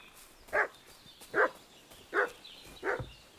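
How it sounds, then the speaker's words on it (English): A dog in the video game Kingdom Come Deliverance 2 barks four times at an even pace, at mid distance over quiet ambience. "What's that dog making such a fuss about?"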